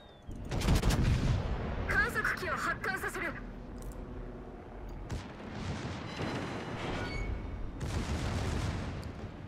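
Secondary guns of the battleship Giuseppe Verdi firing in World of Warships: repeated bursts of booming gunfire and rumbling blasts, fairly quiet in level, with dense clusters of shots between lulls.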